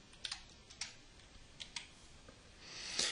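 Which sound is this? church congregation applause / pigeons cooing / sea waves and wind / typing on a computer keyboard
typing on a computer keyboard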